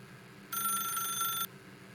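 A telephone rings in the video game The Stanley Parable, one steady electronic bell trill lasting about a second, fairly loud and clear over a quiet low hum.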